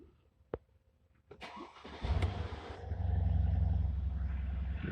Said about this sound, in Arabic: السيارة اشتغلت